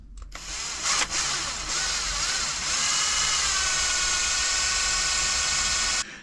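A power drill boring a 3.2 mm hole while fitting parts to a Hobao GTB RC car, a steady loud whine that starts abruptly, holds for about five seconds and cuts off.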